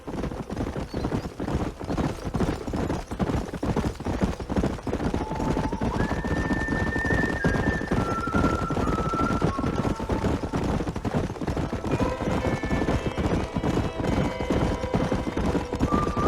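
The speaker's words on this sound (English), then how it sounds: "There's the horses! Get that lasso ready!" Horses gallop and neigh in the video game Red Dead Redemption, rapid hoofbeats drumming steadily throughout while several drawn-out whinnies rise over them in the second half, with some voices mixed in.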